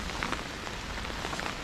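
Rain falls in a steady, soft hiss with scattered light drops pattering nearby while a hiker gears up outdoors, moderately quiet and without talking.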